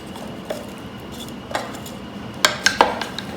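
Vegetables tossed in with beef in a crock-pot, a few sharp utensil clinks and knocks against the pot, close and clear, with the louder clatters bunched near the end amid quiet.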